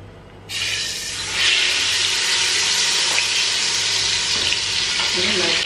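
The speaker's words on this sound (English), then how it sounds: "Right now I'm just adding the melon into the oil." Ground melon seeds hit hot oil and break into a loud, steady sizzle that swells after a second and holds there, close up with light stirring.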